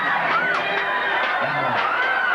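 Crowd of voices shouting and screaming during an attack scene in an outdoor sound-and-light pageant about a Norman village legend, a dense continuous clamor with rising wails layered throughout.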